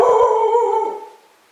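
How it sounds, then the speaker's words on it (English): A dog gives one sustained, wavering howl-like bark, loud and close, that fades out over about a second with no talk. "That's my dog."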